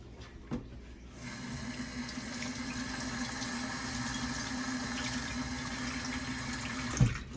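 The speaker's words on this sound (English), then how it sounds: "Rinse off my hand." A kitchen tap runs in a steady, fairly quiet stream while a hand is rinsed under it, with a short clunk at the start and another as the flow stops.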